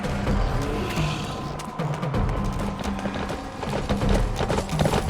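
Horse hooves clatter in a rapid, steady clip-clop rhythm in the video game Shadows of the Damned, loud and close over a dense game soundscape with rumbling background noise.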